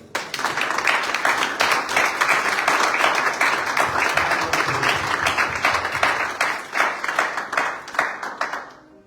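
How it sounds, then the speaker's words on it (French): A church congregation at a French-language worship service applauds together, steady dense clapping filling the space for several seconds, with a few voices mixed faintly into the crowd. "Acclamons pour le Seigneur."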